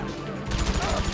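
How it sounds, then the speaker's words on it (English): A short, loud burst of rapid gunfire in GTA V during a heist-preparation firefight, close and continuous after a brief quieter start. "Boys, I'm getting shot."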